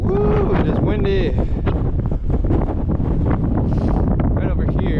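Strong outdoor wind buffets the microphone with constant loud rumbling at a climbing spot called Elk Slabs in Oklahoma. Someone speaks briefly under the gusts.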